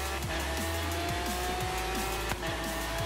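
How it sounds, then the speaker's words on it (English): Lamborghini in Forza Horizon 3 driving with a steady, loud engine drone and repeated gear-shift rises, a brief tire screech near the end, no talking. "we're driving a Lambo, looks like."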